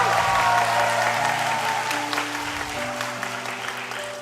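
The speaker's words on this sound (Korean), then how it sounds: "박수 소리가 조금 작은 것 같은데 박수 소리가 커질 때까지 3초만 더 기다렸다가" Applause from a church congregation at a Sunday school summer ministry thanksgiving service, a sustained round of clapping filling the room, with tonal music or hum running steadily underneath.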